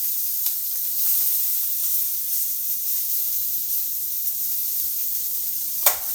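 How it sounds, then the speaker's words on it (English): Steady sizzling hiss of steak searing in a hot cast iron pan, with small pops and crackles throughout and one sharper spit near the end. "Let it get some good sizzle going"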